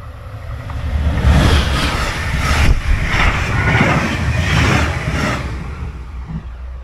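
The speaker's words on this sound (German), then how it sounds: "Da fahren viele Autos rüber. Hier über die Schienen." Cars crossing railway tracks at a level crossing in Germany, a continuous loud rush of passing traffic with repeated tyre thumps over the rails, swelling and fading as vehicles go by.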